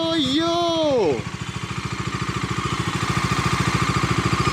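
A motorcycle engine idles close by, a steady rapid low putter with regular pulses that continues alone after a voice briefly speaks at the start.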